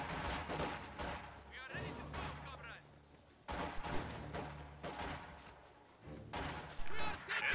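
Gunfire in a strategy video game as units pick off conscripts at long range: sharp bursts of shots recurring every couple of seconds amid dense, busy game noise.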